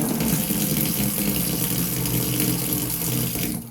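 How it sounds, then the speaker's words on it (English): Steady rush of tap water over a shaving soap bar being rinsed in a sink, loud and close, continuous for several seconds before cutting off at the end. "I'll rinse it off."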